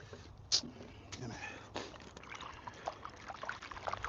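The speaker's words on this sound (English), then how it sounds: "I ain't turning the hose on all the way because I didn't feel I was gonna need it all the way" A garden hose running partly open over potatoes, giving a close, steady trickle and pour of water with small splashes that continues through the whole clip.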